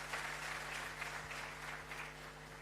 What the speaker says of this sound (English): Another round of applause for our Foreign Service.